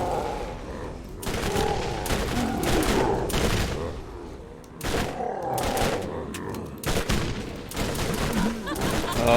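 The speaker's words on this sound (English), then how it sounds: "why are the fireworks so loud?" Rapid, loud fireworks bursts crackle and pop continuously in the video game Borderlands, dense overlapping explosions with a few heavier booms.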